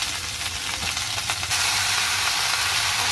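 Hechi greens frying in a pan with green chilli and salt, a steady loud sizzle and hiss close by that swells after a brief stir, with no talking.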